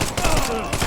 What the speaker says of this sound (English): Tommy gun, Tommy gun. Tommy gun.